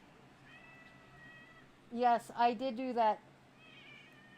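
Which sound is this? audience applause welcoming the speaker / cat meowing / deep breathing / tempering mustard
cat meowing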